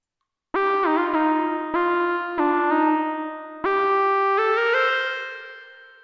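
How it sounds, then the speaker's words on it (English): Synth or keyboard chords drenched in reverb and echo, several sustained stabs ringing out and overlapping with long tails, loud and alone with no voices. "Put on a little reverb, smack that on there."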